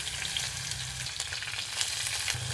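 Finely chopped onions sizzle steadily in a hot pan for a beetroot gravy, with light scraping and tossing clatter breaking through the even frying hiss.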